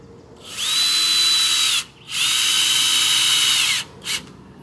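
Power drill driving screws into wood while building a large painting easel: two long, steady whirring bursts of the motor, loud and close, then a brief final blip, with no talking.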